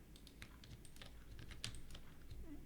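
Keyboard keys and mouse buttons click in irregular quick bursts at a computer while 3D patterns are modelled in Blender 4.3, close and fairly quiet over a steady low hum.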